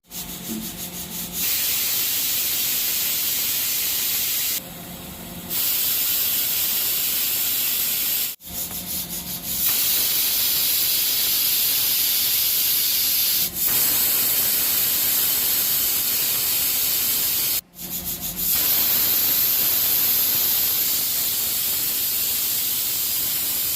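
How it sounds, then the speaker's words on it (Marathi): A pressure cooker on a gas stove cooking Alibag-style chicken popti releases loud, harsh steam whistles, several long hissing bursts separated by brief pauses, close and with no talk. "आपल्या पाच शिट्या झालेल्या आहेत"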